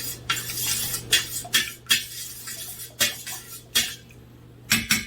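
Spoon stirring a mixture in an udon bowl, a series of quick scraping and clinking strokes against the bowl in bursts with short pauses, close and clear.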